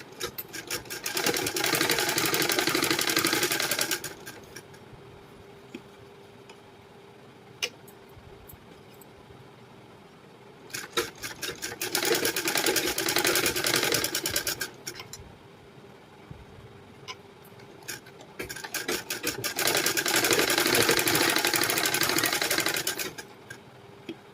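A sewing machine stitches a blouse lining in three long bursts of steady, close whirring, each lasting several seconds, with quiet pauses between them while the fabric is smoothed and repositioned.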